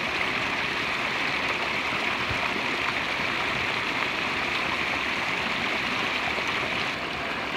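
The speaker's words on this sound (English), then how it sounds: "here we're at this little waterfall" A small waterfall spills into a flowing stream, producing a steady, even rush of water that holds at the same level throughout with no voices.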